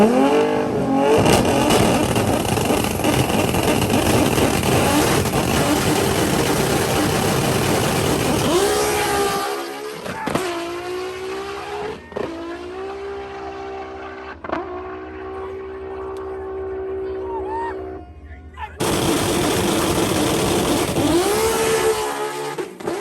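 Drag race car with a slipping clutch, run on nitrous during a 60-foot launch, roars loudly at full throttle as engine revs rise and flare repeatedly, with brief lulls and idle between pulls, close and dominant throughout.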